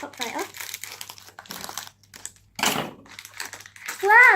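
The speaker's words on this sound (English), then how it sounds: "I'm gonna get the scissors. Just cut the top right off." Crinkly plastic toy packaging for a slime surprise toy crackles in short bursts as scissors cut the top off, with someone talking and exclaiming between the rustles.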